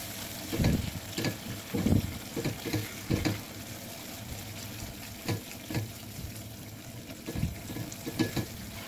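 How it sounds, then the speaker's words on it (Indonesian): Rawon spice paste fries and is stirred in hot oil, a steady sizzle broken by irregular scraping strokes and clatter, close and moderately loud with no talk. "Dan memasak bumbunya ini wajib terus kita aduk ya, supaya bumbunya ini enggak gosong."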